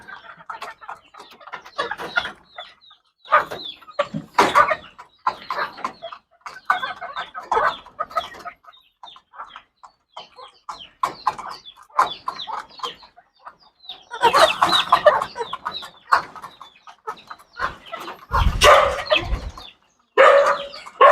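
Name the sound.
chickens clucking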